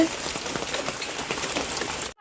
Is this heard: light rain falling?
yes